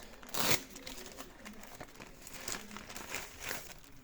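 A small plastic parcel bag is crinkled while a package is unpacked, with soft, irregular rustles and crackles and one louder crunch near the start, close and quiet.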